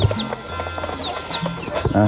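Chickens cluck in a rural Lao farmyard, with several short calls scattered across the moment and a voice talking over them.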